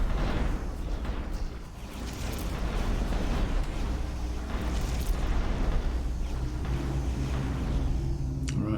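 Missiles and iron bombs detonating in a combat video game, a continuous loud rumble of overlapping booms and blasts with a low sustained roar throughout.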